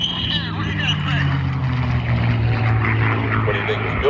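A low-flying P-51 propeller warplane roars past at an air show, its engine drone loud and steady with a shifting pitch throughout, while an announcer talks over it.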